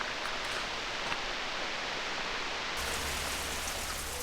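Steady rain falls on a jungle glamping site near Akumal, a dense even hiss of drops with no voices, its texture shifting slightly partway through as the patter grows heavier at the low end.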